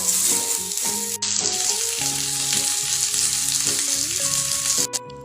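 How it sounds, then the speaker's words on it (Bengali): Raw green mango pieces fry lightly in a kadai with dried red chilli and five-spice, giving a steady, close oil sizzle that runs throughout beneath a layer of musical tones. "আমের পিসগুলোকে হালকা করে ভেজে নিলাম"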